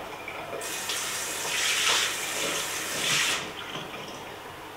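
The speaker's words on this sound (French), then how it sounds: "Je rince." Water sprays steadily over a small trailer's spare wheel rim during rinsing, a close rushing hiss lasting several seconds that swells and eases as the stream moves, with no talk.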